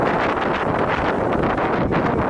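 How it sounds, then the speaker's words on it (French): Strong wind gusts buffet the microphone in a loud, continuous roar with rustling texture throughout, outdoors at Epcot, Walt Disney World. "C'est assez venteux aussi aujourd'hui"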